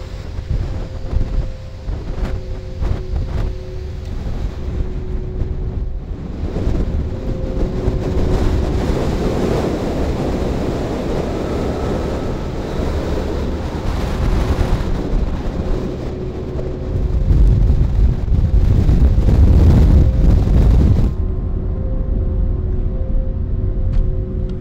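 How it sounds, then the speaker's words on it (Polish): Strong wind buffets the microphone over rushing Arctic sea waves during the polar night, a continuous roaring gusty noise that swells louder toward the end. "wicher taki wieje, chyba słychać ten wiatr nawet"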